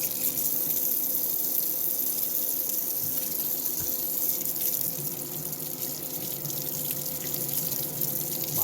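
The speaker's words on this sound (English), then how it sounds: "Go ahead and give it a wash off." Tap water gushes steadily and close by as a Hot Wheels Redline die-cast car is rinsed under the stream. The hiss of flowing water is continuous and alone, with small shifts in splash.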